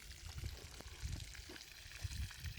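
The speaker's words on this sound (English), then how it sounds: "So obviously first things first, we're just emptying the old water out of the pond." Old water being emptied out of a garden pond, a steady low pouring and trickling flow with irregular splashy surges, fairly faint and continuous with no talking.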